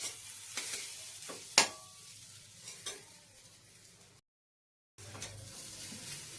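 Semolina halwa made with egg is stirred in a hot pan, a soft sizzle under a scraping spoon with several sharp clinks, broken by a short silent gap before the stirring resumes.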